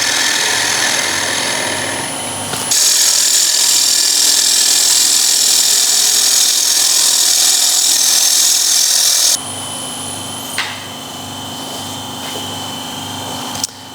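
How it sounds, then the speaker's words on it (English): A bowl gouge takes a finishing cut on wood spinning on a lathe, a loud steady hissing scrape for several seconds between quieter motor hum, close up, with no talking. "I can do a finishing cut with the bowl gouge"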